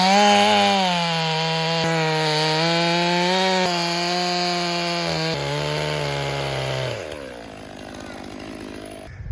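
A chainsaw bites into a West Coast hardwood log, its loud, steady, high-revving drone holding under load for several seconds before the engine drops off and winds down near the end.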